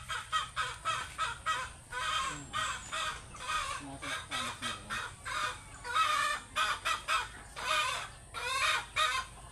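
A flock of chickens clucking close by in a steady, rhythmic series of short calls, with occasional louder squawks layered over faint background noise.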